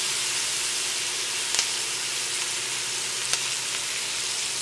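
Seasoning fries steadily in a pot for a Jamaican brown stew chicken, a constant soft sizzle and hiss with two faint ticks, no talking.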